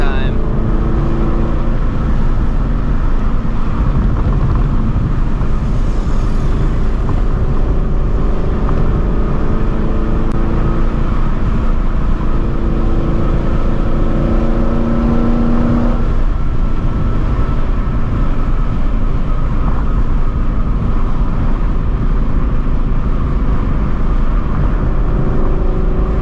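A straight-piped Shelby GT350 pulls hard under acceleration, its exhaust a loud, steady roar throughout with rising engine tones mid-run, heard from inside the car.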